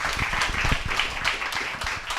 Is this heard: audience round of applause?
yes